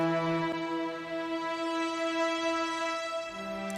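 Orchestral strings run through the Waves Kramer tape plugin hold a steady sustained chord, warm and even, with a soft low note entering near the end, at moderate level with no talking.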